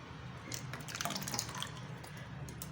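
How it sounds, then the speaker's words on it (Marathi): Water pours in a soft, brief splashing trickle into lentils, fairly faint over a low steady hum. "इथे थोडंसं पाणी घालून घेणार आहे"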